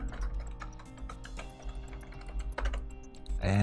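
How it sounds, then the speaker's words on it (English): Typing on a computer keyboard to enter a username and password, with a run of quick, close key clicks in uneven bursts against a faint background hum. "Now I just type in my Active Directory username and password"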